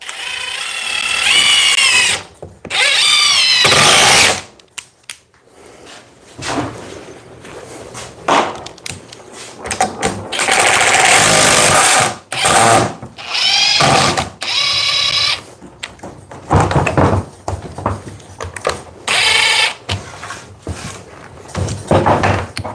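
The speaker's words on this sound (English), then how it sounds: "The best, strongest Sawzalls they got." DeWalt 60 volt, Milwaukee Super Sawzall and FLEX 24 volt reciprocating saws cut in loud, close bursts of a few seconds each, separated by short pauses and quieter handling noise.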